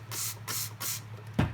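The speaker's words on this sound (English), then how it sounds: "I like to use my spray bottle for this" A hand spray bottle misting water into acrylic paint, three quick even spritzes in a row followed by a fourth sharper puff, close and moderately loud with no talk.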